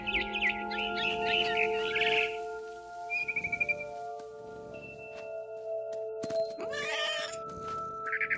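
A cat meows and yowls in the video game What Remains of Edith Finch. The calls are close and repeated, with a frightened barn swallow chirping and twittering between them over a quiet background hum.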